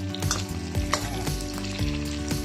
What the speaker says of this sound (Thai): ก็มาทอดหัวกุ้งครับ